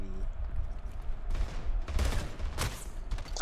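Gunfire in a shooter video game, a scattered burst of sharp shots growing denser toward the end, heard over a low rumbling background.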